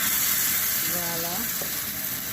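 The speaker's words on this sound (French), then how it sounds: "Et on va frire comme ça." Rice patties fry in hot oil with a steady, dense sizzle throughout, close and loud, broken briefly by a faint tonal squeak midway.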